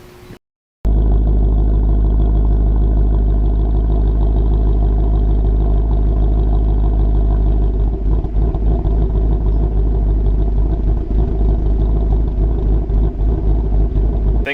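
A 2014 Ford Mustang GT Track Pack V8 with Borla axle-back pipes, resonator delete and a Ford Performance X-pipe starts up after a brief pause, then idles loud and deep with a throbbing burble, close and sustained.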